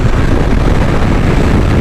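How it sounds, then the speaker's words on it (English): Loud, steady wind buffeting a microphone on a moving motorcycle, a dense roar that fills the whole recording without letup. "With all this wind, it's hard to hear how high my revs are"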